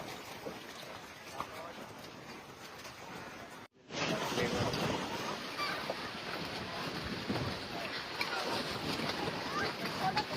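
Waves on Pawna Lake lapping under blowing wind, a continuous loud washing hiss after a brief dropout, with wind buffeting the microphone throughout.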